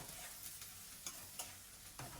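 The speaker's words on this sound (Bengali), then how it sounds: "তো আমি এখন সুন্দরভাবে পেস্টটা ভেজে নিব।" Spice paste of onion, chili and salt sizzles quietly in hot oil for a hilsa and taro dish, with a soft continuous fry broken by a few light clicks of stirring.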